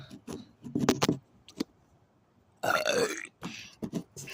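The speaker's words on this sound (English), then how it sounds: "I think your burp was louder than mine" Loud, drawn-out burps from people in a burping competition, one long rumbling belch in the middle plus shorter bursts before and after, close and clear.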